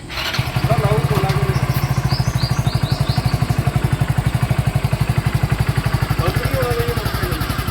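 A motorcycle engine idles and runs close by with a steady, rapid thumping pulse throughout, while people talk faintly in the background during a riding lesson.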